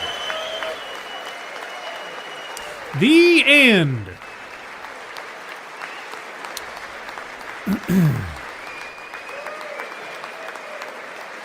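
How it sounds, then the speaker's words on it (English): Sustained audience applause fills a chamber at the close of a State of the Union address, a steady wash of crowd clapping with a commentator's voice breaking in over it twice. "We'll see how long they hold on the applause"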